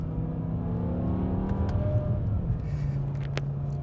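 A 2006 BMW M6 engine revs and hums steadily with a deep rumble, loud and close, no voices over it.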